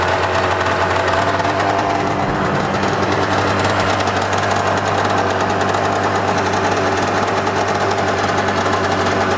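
A 1995 SeaDoo XP 720 jet ski's 720 cc two-stroke engine idles out of the water, a loud, close, continuous buzzing drone with a rapid knocking rattle that holds steady throughout, no voices.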